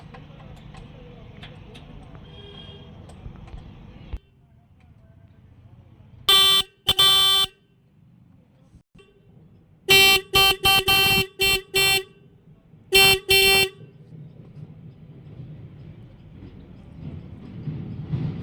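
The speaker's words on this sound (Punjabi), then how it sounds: "ਹਾਰਨ ਤੇ ਟੀਟੀ ਹਾਰਨ ਚੱਲਦਾ ਆਪਣਾ ਤੁਹਾਨੂੰ ਦਿਖਾਉਣਿਆ" A newly fitted tractor horn honks in loud repeated bursts: one short pair, then a rapid string of blasts, then another pair, with voices talking before and after.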